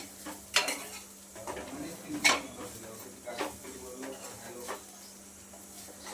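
Roasted grated coconut stirred in a pan for a spicy Kolhapuri misal masala, giving scraping, clinking strokes of a utensil against metal, with sharper knocks now and then over a faint steady background hum.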